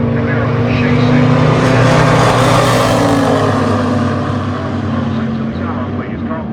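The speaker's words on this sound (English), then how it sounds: "And they are off the mark with the Corvette. Camaro chasing." A Corvette and a Camaro launch side by side off the line in a drag race at the California Hot Rod Reunion finals, a loud, sustained, raw engine roar close by with announcer talk underneath.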